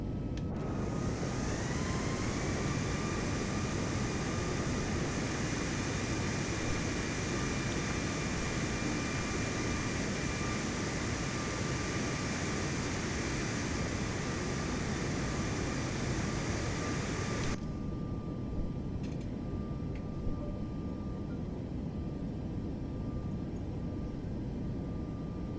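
Boeing 737 Max jet engines roar steadily in Microsoft Flight Simulator 2024 during a takeoff roll down the full runway, a loud sustained drone with a high whine, the cabin-like rumble abruptly thinning near the end.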